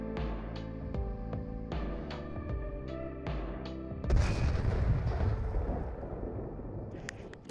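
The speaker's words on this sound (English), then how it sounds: "Now I'm going to go over the brand new Visby with the Iowa cannon on it." Heavy Iowa cannon fire from a Visby warship in the Dynamic Ship Simulator III game: a loud booming blast erupts midway, breaking into a rumbling wash after a stretch of tonal music-like game audio, with no talk.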